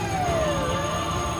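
A fire engine siren sounds as the truck arrives at a fire drill at UKM's Faculty of Islamic Studies. A loud wailing tone falls in pitch over a continuous engine rumble, with no talk.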